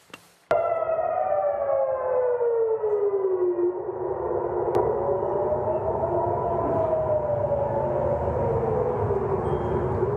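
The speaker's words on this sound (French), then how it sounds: "Les sirènes à Jérusalem pour prévenir la population qu'une menace aérienne est en train d'arriver." Civil defense air raid sirens wail across Jerusalem, several overlapping tones sweeping down and back up in a long, loud, steady rise-and-fall that fills the air.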